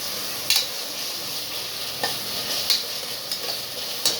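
Ten small shallots frying in a pan for mushroom biryani give a steady hiss with a few sharp stirring scrapes and clinks spaced through it, close and moderately loud, with no talking.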